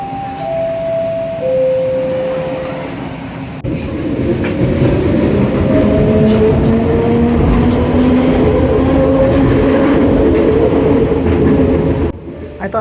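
A Toronto Scarborough RT rapid transit train rumbles loudly along the track toward McCowan, with rising electric motor whine, rhythmic wheel clatter and occasional squeals, close and continuous.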